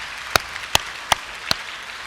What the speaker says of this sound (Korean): 우리 큰 박수로 격려해 주실 것을 제안합니다